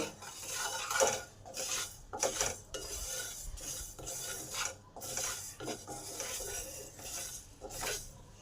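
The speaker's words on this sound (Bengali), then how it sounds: "এর সঙ্গে মেথি জোয়ান আর সর্ষেটা দিয়ে দিলাম এই গরম প্যানেতে ভালো করে গরম করে নেবো" Fenugreek, ajwain and mustard seeds are stirred in a hot pan, a spoon scraping and rattling the seeds in repeated short strokes, fairly close and quiet, with no talking.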